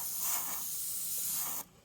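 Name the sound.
spray gun spraying chrome yellow paint on a Mustang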